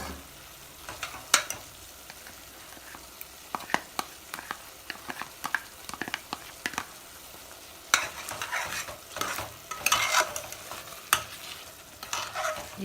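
Masala paste of onion, cinnamon, cloves, cardamom and cashew fries for Andhra-style chicken masala, a low sizzle punctuated by repeated spoon scrapes and stirring clatter, growing busier toward the end.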